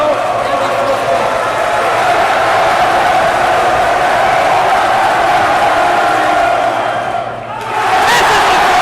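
A packed high school basketball gym roars with loud, continuous crowd noise during a free throw late in the fourth quarter. The noise holds steady, dips briefly, then surges back.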